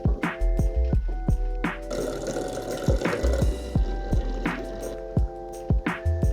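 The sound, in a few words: apple cider being poured directly into bottles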